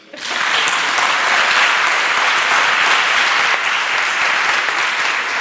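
Loud, full audience applause swells up quickly and holds as a thick, continuous roar of clapping in a hall after a university conversation event.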